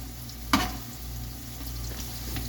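Onions browning in a pan for Saudi-style kabsa, a low, continuous sizzle with one sharp clink from a utensil early on.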